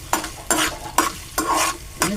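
Chopped onion frying in hot oil and being stirred, a steady sizzle broken by five evenly spaced scraping strokes of a spoon against the pan, close and clear, with no talking.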